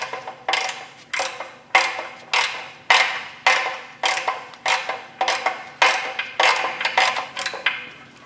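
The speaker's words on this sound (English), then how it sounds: "So now we can tighten these bolts here on the bottom two we put in and used as guides." A ratchet tightens transmission bolts by hand in a steady series of close, crisp clicking strokes, about two per second, with brief pauses between pulls.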